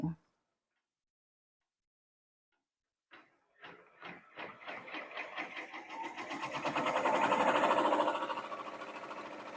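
An embroidery machine stitches to tack down batting on a chunky pumpkin mug rug, starting after a pause with separate needle strokes that quicken into a steady, loud run of rapid stitching.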